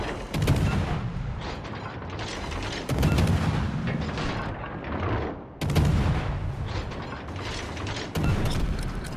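Battleship guns firing AP shells in World of Warships Legends: about four heavy booming salvos spaced a couple of seconds apart, each with a long rumbling mechanical tail.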